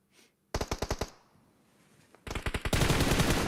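Rapid bursts of automatic gunfire in PUBG Mobile at a competitive esports match, two loud volleys of closely spaced shots separated by a quieter gap, the second burst running into dense continuous firing.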